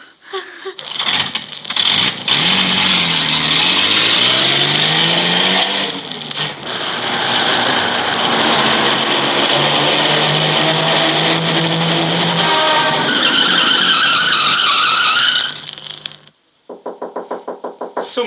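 A car pulls up with a loud, close engine that revs and drones, its pitch rising and falling, before cutting off, followed by a few short knocks.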